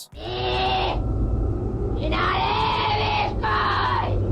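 A woman screams at full force in three long, shrill bursts, loud and close, with a steady low rumble underneath.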